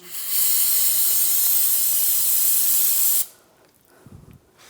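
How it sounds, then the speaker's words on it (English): Brake parts cleaner sprays in one long, loud, steady hiss onto the rear brakes of a 2014-2023 Jeep Cherokee, then cuts off abruptly, leaving a few faint handling noises. "clean this up with some brake parts cleaner"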